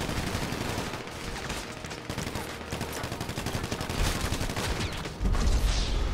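Sustained rapid gunfire in GTA, a dense rattle of shots from several weapons with a heavier, louder burst near the end.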